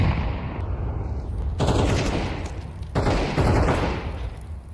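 Video game gunfight in a Galaxy Battle esports play-off, with bursts of automatic gunfire and sharp shots layered over a steady din, fairly loud and close.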